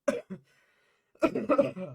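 A person coughs close up, two short bursts followed by a longer rough fit of coughing.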